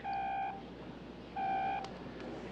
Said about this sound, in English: Car phone.